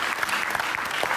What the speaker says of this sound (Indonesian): Boleh tepuk tangan untuk Adit.